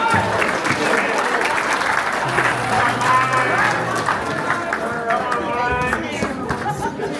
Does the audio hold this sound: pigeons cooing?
no